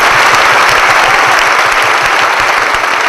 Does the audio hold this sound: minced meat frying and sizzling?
no